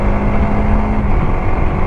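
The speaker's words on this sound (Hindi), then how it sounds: "अब हम गाड़ी को चलाएंगे, 100 पे क्रूज़ करेंगे" A TVS Apache RTX 300 motorcycle cruising steadily at about 100, its engine and wind rush forming a loud, continuous drone with no break.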